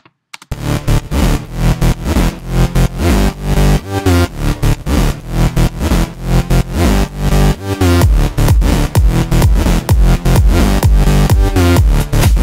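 A layered big room electro bass synth plays a dense, loud pattern of rhythmic stabbed notes, pumping steadily throughout with no voice.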